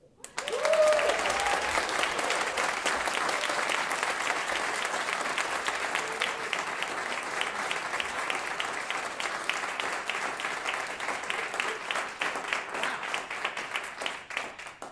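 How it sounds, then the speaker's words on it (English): Sustained audience applause at a women business leaders forum for the Virginia governor, steady and dense from start to finish with no talk over it. "I would like you to give a rousing women's applause to Glenn Youngkin"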